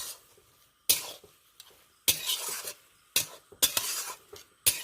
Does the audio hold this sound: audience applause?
no